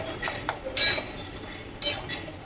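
Taro stalks are stirred in a metal pan, with a handful of close clinks and scrapes of the utensil against the pan at uneven intervals, quiet between strokes.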